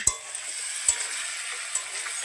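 Bitter gourd and potatoes fry in a pan with a steady close sizzle, broken by a few sharp knocks of a utensil.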